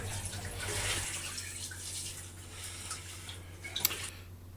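Water pours and splashes into a cooking pot of beef, ginger and garlic at close range, a soft continuous gush that tapers off, with a faint clink near the end.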